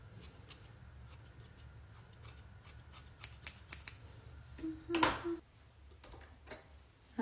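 Scissors snip through long hair being cut into layers at home, a few crisp closing clicks against a quiet room, with one louder, sharper cut near the end.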